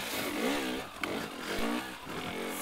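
A KTM 300 TPI 2020 two-stroke enduro motorcycle held at low revs, its engine note rising and falling in a lumpy, buzzing drone with a brief sharp knock near the middle, fairly close and moderate in volume.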